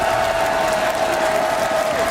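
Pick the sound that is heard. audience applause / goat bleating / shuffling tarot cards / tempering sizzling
audience applause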